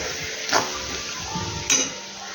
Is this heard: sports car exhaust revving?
no